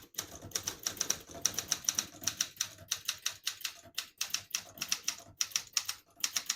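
A 1969 Olympia SM9 portable manual typewriter types in quick, crisp, close clacking bursts separated by short pauses.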